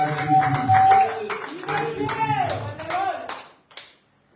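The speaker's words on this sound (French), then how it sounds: "Nous acclamons, nous le recevons au nom de Jésus." A church congregation claps in a brief, uneven burst of hand claps mixed with voices, tapering off after a few seconds.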